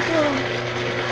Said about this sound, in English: now this is on low speed. And it's blending